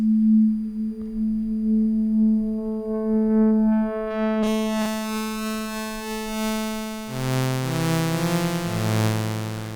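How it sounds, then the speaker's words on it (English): Pure sine tones from a Yamaha Reface DX FM synthesizer, clean single notes stepping through a melodic line, later turning brighter and richer in harmonics, with no voices. "So we're beginning with pure sine wave."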